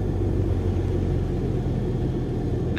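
A Cessna 152 engine throttled back to idle in a flight simulator, giving a steady, continuous low rumble with no rise or fall, heard alone at moderate level.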